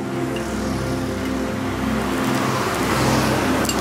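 A car arriving, a continuous engine drone and tire rumble that grows slightly louder toward the end, fairly near, with no speech.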